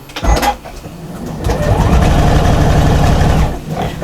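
A sewing machine stitches through the fabric layers of a shopper bag with a loud, close, steady mechanical whir, starting and stopping in short runs.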